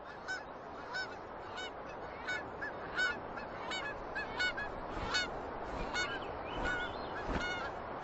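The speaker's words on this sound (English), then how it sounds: "As many as 140 million seabirds flock to Alaska's coast for the summer." Seabirds call along the Alaskan coast in summer, a dense chorus of honking cries rising and overlapping at close range over a steady wash of wind and surf noise.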